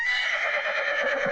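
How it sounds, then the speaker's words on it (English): A horse gives a single clear neigh, a loud whinny lasting just over a second, heard alone with no other sounds. "horse"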